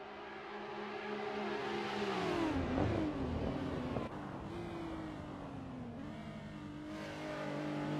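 A Nissan R34 Skyline and a Nissan 370Z race at Mugello in the Assetto Corsa racing game. The engines drone loudly and steadily, rising and falling through revs and gear shifts as the cars run close together, with no talk.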